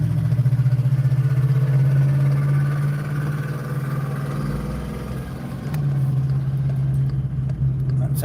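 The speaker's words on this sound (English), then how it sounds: "It sounds like they don't have their exhaust fixed correctly, which is illegal." A car with a badly fitted, loud exhaust idles and revs nearby, a steady low droning rumble that dips slightly midway and then picks back up, continuous throughout.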